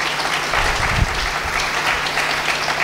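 A hall audience claps loudly and continuously at a devotional sermon on the life of Sant Eknath Maharaj, held for Sant Ganesh Maharaj's Prakat Din celebration, a dense crowd applause with one brief low thump near the middle.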